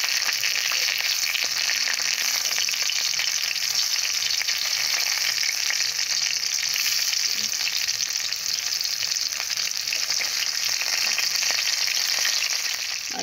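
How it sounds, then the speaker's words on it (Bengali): Mrigal fish pieces frying in hot oil give a steady, loud, dense crackling sizzle that holds without a break for the whole stretch, with no voices. "মাছগুলো ভালো করে ভেজে নিয়েছি"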